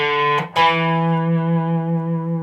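Electric guitar playing a lick an octave lower on open strings, a loud distorted note that is briefly cut, then a new note rings out and sustains with slow decay.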